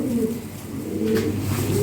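A light-coloured Lahori Sherazi pigeon coos close by, giving soft repeated low throaty calls over a constant background murmur.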